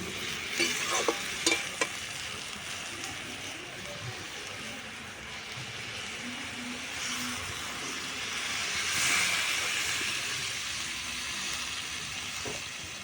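Leafy greens with turmeric fry and sizzle in a pan over an outdoor clay stove, with a steady hiss, a few stirring clinks near the start and a brief louder surge of steam partway through.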